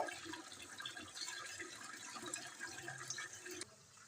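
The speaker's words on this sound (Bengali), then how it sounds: "সেই আলুগুলো ভালো করে ধুয়ে নেব" Potatoes are washed in running water, with a continuous splashing, gushing stream close by that stops abruptly near the end, leaving a quieter hiss.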